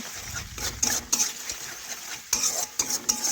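Spice masala for rohu fish kalia being stir-fried in hot oil, with steady sizzling and sharp, irregular scrapes of a spoon against the pan, fairly close and with no talking.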